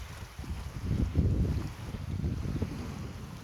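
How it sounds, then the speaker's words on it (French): Wind gusts across Lac de St Croix as a radio-controlled Mod 70 trimaran sails. A steady rushing buffets the microphone and swells to a stronger gust before easing to a continuous blow. "Une petite rafale qui revient."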